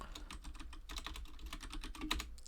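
Keys clatter on a computer keyboard in a steady run of quiet, close presses during HTTP message writing for Python web programming, ending with the Enter key being struck, no voices over it.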